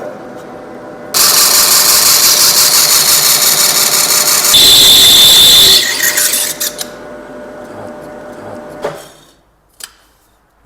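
A lathe cuts apart an automotive torque converter from a Genesis G80 with a stuck damper clutch, a loud sustained grinding screech of the tool on metal that changes pitch midway, then stops, leaving a lower machine hum and scattered clanks.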